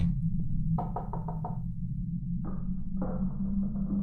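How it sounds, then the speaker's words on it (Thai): Muffled knocking comes from inside a closed, chained gas station: a quick run of five hollow raps, a gap, then two further bursts of knocking against a constant low droning hum. "ถ้าคุณผู้ชมได้ยินอ่ะมันจะมีเสียงแบบก๊อกก๊อกแก๊กอยู่ข้างใน"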